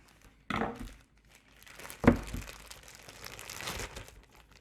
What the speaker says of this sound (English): So I will be taking my little scissors and unwrapping.